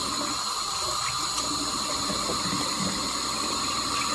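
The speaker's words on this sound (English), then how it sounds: "First off, I start by washing my hands." Tap water running steadily into a sink while hands are washed, a constant, even hiss at moderate level with faint irregular splashes and no talk.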